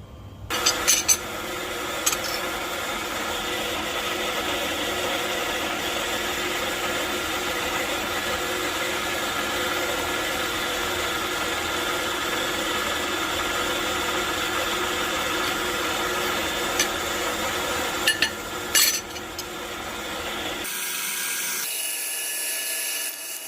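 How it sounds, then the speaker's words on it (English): A drill boring holes in a Topfit phone mount for a Tesla Model Y or Model 3, ahead of hand tapping for 4-40 threads: a steady, continuous motor whine running close and loud for about twenty seconds, then stopping. "we'll drill it with this drill size first, and then we'll tap it by hand with a 440"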